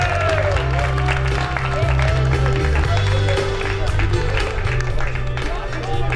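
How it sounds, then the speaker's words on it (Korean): Applause at a gateball tournament award ceremony in Yangpyeong, a crowd clapping steadily over the presentation, with a low droning hum and a voice speaking over the top throughout. "네, 박수 부탁드리겠습니다."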